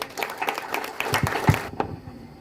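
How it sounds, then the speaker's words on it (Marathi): Dense clapping from a crowd, steady for a moment and then quickly dying away into quiet. "सगळ्यांनी टाळ्या वाजवून धन्यवाद देऊयात"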